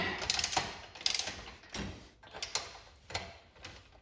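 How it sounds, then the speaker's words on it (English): A wrench loosening the rear axle nut on a kid's Mototec X1 110cc dirt bike, several close metallic clicks and ratcheting strokes repeating at a steady pace, fairly quiet. "Get that crack and loosen that right up."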